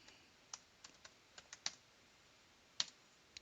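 Java code being typed on a computer keyboard: about a dozen sparse, separate key clicks with uneven gaps, two of them sharper and louder, close and clear over a quiet background with no talking.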